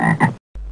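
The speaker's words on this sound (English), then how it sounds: "Toad." A toad croaks twice in quick succession, loud and close, with rough throaty pulses, then silence and a low hum follow.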